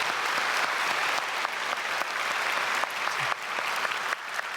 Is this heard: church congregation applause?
yes